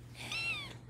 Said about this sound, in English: How come Oreo's meow is really squeaky?